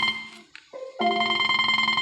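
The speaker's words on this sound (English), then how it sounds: "someone's calling my phone and I'm not going to answer it." A phone call ringing through a car's Bluetooth system, heard as steady, loud electronic ring tones filling the cabin after a few brief clicks and beeps.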